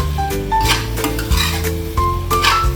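Sweet chili shrimp being stirred as it fries in oil, with a spoon scraping and clinking against the pan over a steady sizzle, in a few separate strokes at close range.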